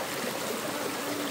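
A river flows with a steady, broad rushing wash, fairly close and continuous, with no voices over it.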